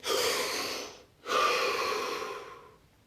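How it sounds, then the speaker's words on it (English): Two deep, audible breaths during a calm guided meditation: a long airy inhale, a brief pause, then a slow exhale fading softly away, close and quiet. "Take a deep breath."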